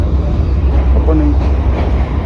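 A train pulls into a station in Colombo, Sri Lanka, with a steady, heavy, close rumble throughout and faint voices briefly audible beneath it.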